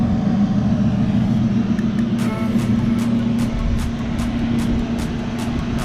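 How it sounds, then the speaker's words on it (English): A Daikin VRV condenser fan motor on an outdoor unit that is in fault runs with a steady, loud whirring hum. Faint repeated clicks sound over it. "Yeah, the fan's coming back on again."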